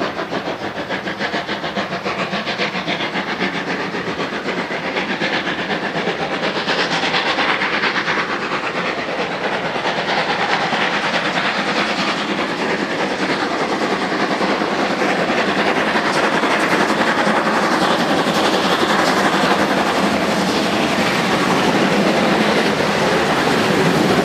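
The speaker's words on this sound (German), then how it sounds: "Wir sehen die Dampflok als erstes am 4. Oktober 2005 bei der Ausfahrt aus dem Bahnhof Wörth in Richtung Karlsruhe." Steam locomotive 01 1100 departs Wörth station toward Karlsruhe in October 2005, a loud, steady rumble of train and rolling wagons with rhythmic clatter sustained close by throughout.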